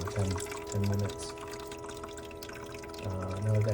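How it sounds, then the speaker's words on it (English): An ice ball maker runs tank water through itself on its cleaning cycle, giving a soft continuous trickle and pour with periodic low pump surges, near and steady, with no voices. "it'll just run the water from the tank through the whole machine for about 10 minutes"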